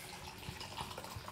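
White vermouth is poured into a large jar as a faint, brief trickle of liquid with soft splashing, quiet and close, with no talking.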